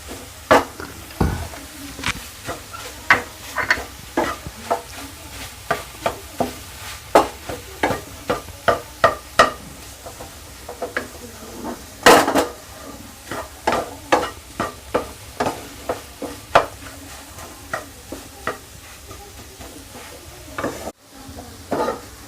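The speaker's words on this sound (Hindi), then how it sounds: "अभी हम इसमें हमारा जो हरा धनिया था कटा हुआ, अभी हम उसे मिक्स कर देते हैं" Spatula scraping and stirring egg bhurji with chopped green coriander in a hot frying pan, a steady run of sharp, close clinks and scrapes over a soft sizzle, with no voices.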